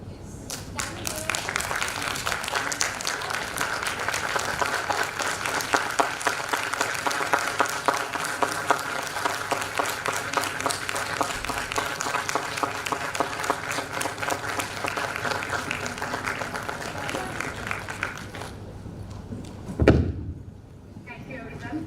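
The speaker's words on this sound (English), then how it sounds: "give a huge round of applause for the great team" Sustained audience applause at a university zoology department gathering, dense clapping from a large group lasting most of the clip before ending with a thump, with voices talking underneath.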